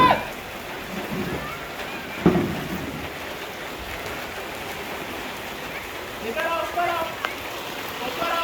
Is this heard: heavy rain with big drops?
yes